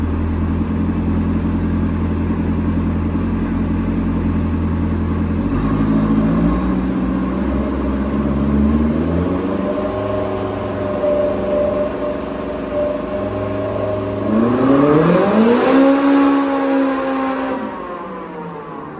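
A turbocharged car engine on a dyno with the exhaust open drones loudly and continuously, its pitch climbing in stepped surges as it revs up, with a final high whine before easing off.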